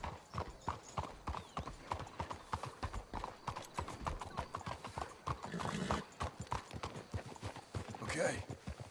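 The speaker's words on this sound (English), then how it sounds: "Let's hitch the horses up ahead." Horse hooves clip-clop steadily in the video game Red Dead Redemption 2, a brisk rhythmic clatter with occasional snorts, while characters talk over it.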